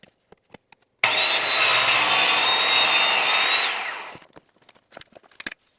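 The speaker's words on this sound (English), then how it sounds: "Now that I've cut up my MDF" A saw cuts through an MDF board in one continuous loud pass of about three seconds, a steady whine that fades as the cut finishes, followed by light knocks and handling noises.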